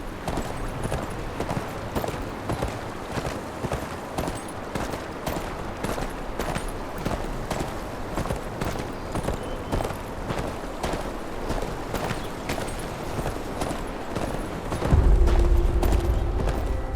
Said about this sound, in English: Where's your horse? Mount up and let's go.